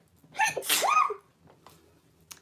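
A single loud, close sneeze with a sharp rising inhale and burst, followed by a few faint small sounds.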